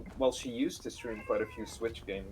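Pet cat Lucy meows several times in a row, close and clear, each call rising and falling, mixed with a person talking over the meows.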